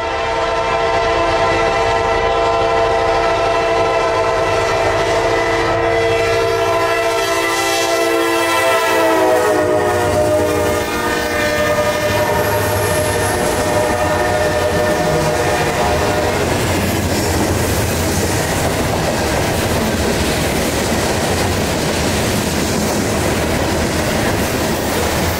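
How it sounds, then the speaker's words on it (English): A southbound Norfolk Southern grain freight train passes close and loud, its horn sounding a sustained multi-tone blast for several seconds before giving way to a steady roar of rolling cars and wheel noise. "Another symbolless, unidentified train of grain headed south for somewhere."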